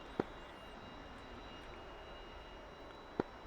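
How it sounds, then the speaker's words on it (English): A jet aircraft taxis in a flight simulator game, a steady low engine hum and hiss with two brief sharp clicks, one at the start and one near the end. "so let's taxi on the left hand side."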